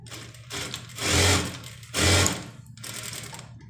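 A sewing machine stitches a neckline on a dress made from an old saree, running in two short, loud bursts with a quieter mechanical hum between them and after, close by.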